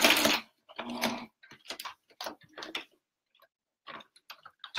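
A sewing machine stitches oven mitts in short, quiet bursts of rapid mechanical whirring, separated by brief pauses as the fabric is turned.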